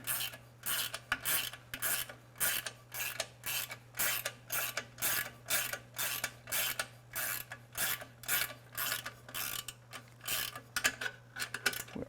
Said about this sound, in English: Definitely going to use the ratchet.